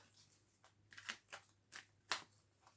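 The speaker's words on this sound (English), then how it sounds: "Right, one more shuffle." Tarot cards are shuffled in a few soft, quick riffling bursts, close and fairly quiet, without any talking.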